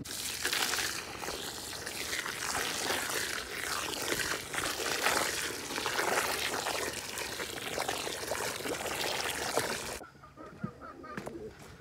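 Water pours steadily onto alfalfa pellets fed to a homestead cow, a continuous close splashing rush that stops abruptly near the end, leaving faint background sounds and distant bird calls.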